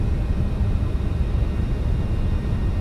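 A constant, loud low rumble and roar comes from an MD-11 airliner using reverse thrust after landing in a flight simulator game. It stays steady and dense throughout, with no talk.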